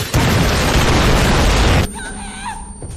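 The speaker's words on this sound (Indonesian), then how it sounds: "terjadi tembak menembak dan Tuan Long pun melemparkan bom" A loud bomb blast from an action film roars in close for almost two seconds, then cuts off abruptly into quieter sound with a brief voice.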